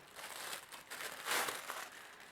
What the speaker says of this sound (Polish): kładę sobie tutaj przed sobą e, pierwszy papier, z wierzchu taki zabezpieczający i wyciągam pierwszą rzecz